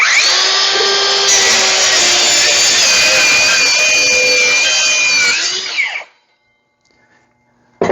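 DeWalt 20V circular saw powered by a 60V battery cuts through wood in one loud, close, sustained whining pass of about six seconds, then winds down quickly under its electric brake, leaving faint handling clicks.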